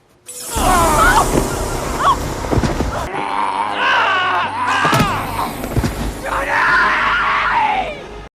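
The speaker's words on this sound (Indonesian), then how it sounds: "Barbara berteriak histeris sambil melarikan diri." A woman screams hysterically as she runs away in a horror film, with long, loud, strained shrieks and yells that rise and break repeatedly over several seconds, close and raw, with thuds and movement beneath.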